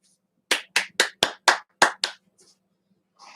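A live-show host's audience or the host claps seven times in a quick, even burst, sharp and close, followed by near silence and a faint trailing sound.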